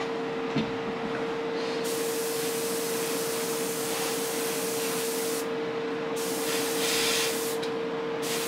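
A spray gun lays 2K clear coat on an MP4/4 model, giving a continuous close hiss with a steady tonal whine from the compressor, rising slightly in bursts as passes are made, with no talking.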